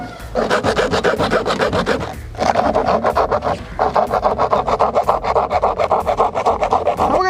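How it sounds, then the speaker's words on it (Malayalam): A hacksaw blade saws back and forth through the plastic case of a car battery, a close, loud, rhythmic rasping with quick regular strokes and one short pause. "ഇതേപോലെ ഒരു ആക്സോ ബ്ലേഡ് ഉപയോഗിച്ചിട്ട് കട്ട് ചെയ്യാൻ കുറച്ച് സമയം എടുക്കും തോന്നുന്നുണ്ട്"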